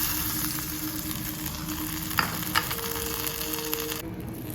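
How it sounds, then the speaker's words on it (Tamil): Cumin seeds and curry leaves crackle in hot oil as a tempering, giving a constant close hiss with a couple of brief pops and clicks, then the sound thins abruptly near the end. "1 ஸ்பூன் சீரகம் 1 கொத்து கருவேப்பிலை எல்லாத்தையும் பொண்ணா போட்டு தாளித்து போட்டுக்கலாம்"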